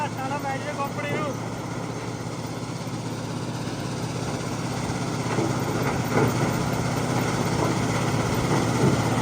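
A tractor engine runs steadily close by throughout, a continuous mechanical drone that grows slightly louder toward the end, with some voices audible over it.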